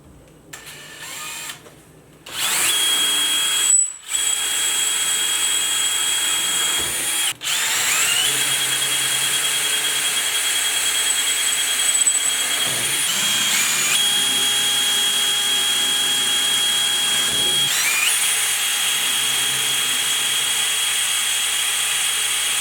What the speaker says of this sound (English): Now I'm just going to drill some holes to mount it with these screws.